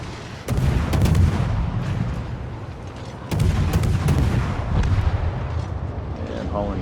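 Heavy naval shells fire from a warship in a World of Warships-style game battle, a loud booming salvo around half a second in and another at about three seconds, each with rumbling decay, while someone talks over the gunfire.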